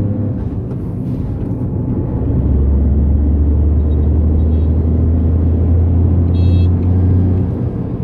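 A Tata Tiago hatchback with about 35,000 km on it pulls away in first gear, its engine droning low and steady from inside the cabin and rising to a sustained loud rumble, with no talking.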